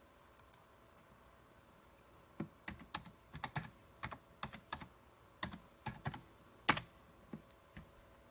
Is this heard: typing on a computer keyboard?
yes